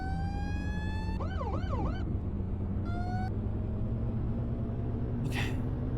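A wailing emergency siren on a video game ladder fire truck cycles through rising and falling tones over a steady engine rumble, then cuts off, leaving the drone of the vehicle.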